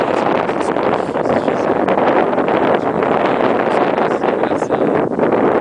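Wind buffets the microphone at the summit of Pico da Bandeira in a constant loud roaring rush with gusty fluctuations throughout, no voices standing out.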